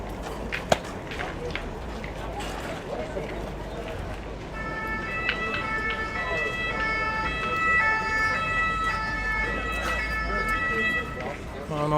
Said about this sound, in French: On entend l'ambulance